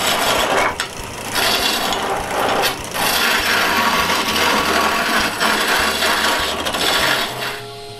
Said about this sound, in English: When both shapes are done, I sand this with drum sander sandpaper